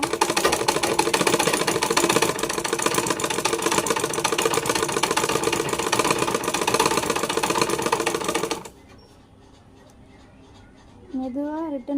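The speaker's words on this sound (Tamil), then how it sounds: "அடுத்தது மூணாவது சைடை தைக்க போகிறோம், மடக்கி தைக்க போகிறோம்." Sewing machine stitching the folded third side of a piece of fabric, a loud, rapid mechanical rattle running steadily for about eight seconds before stopping abruptly; a voice speaks quietly afterwards.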